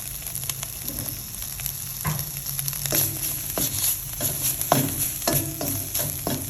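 Broccoli and pork stir-frying in a pan for fried rice with five-colour beans and Job's tears: a steady hot sizzle runs throughout, broken by sharp metallic clacks of a utensil striking the pan at irregular intervals.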